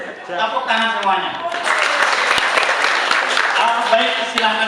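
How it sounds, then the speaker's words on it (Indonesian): An audience of young people at an Indonesian community youth gathering bursts into loud, sustained applause right after a speaker's voice, the clapping dense and close for several seconds. "Tepuk tangan semuanya."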